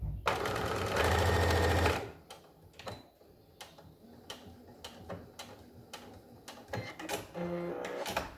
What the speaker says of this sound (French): quand je commence ma couture, automatiquement il va faire 3 points en avant, 3 points en arrière et ensuite il va démarrer